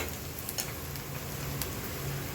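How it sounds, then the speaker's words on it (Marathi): Onion browned in oil sizzles with masala and salt for a capsicum (shimla mirchi) bhaji, a loud, dense, continuous frying hiss with faint stirring taps. "कांदा लाल भाजल्यानंतर त्याच्यामध्ये मसाला, मीठ, तेलामध्ये टाकल्यानंतर"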